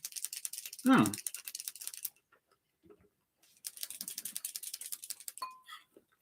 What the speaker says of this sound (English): I haven't used this paint pen in a while. Give it a good shake.